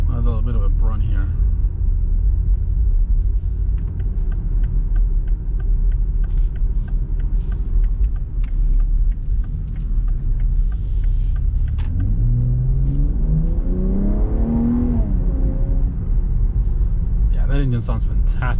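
A 2021 BMW X3 M Competition engine drones loud and steady while driving, then revs up with a rising pitch sweep near the end, with no talking over it.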